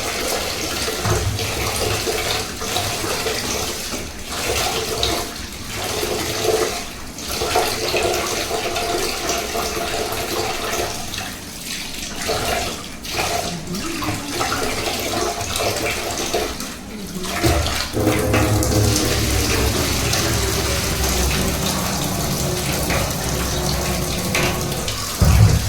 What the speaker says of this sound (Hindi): बहुत सुंदर पानी गिर रहा है गाइस, बहुत अच्छा पानी गिर रहा है